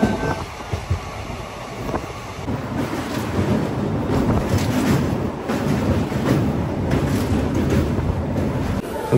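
The 12885 Aranyak Express passenger train runs along the track, a continuous rumbling roar with rattling and buffeting wind noise throughout, close and fairly loud.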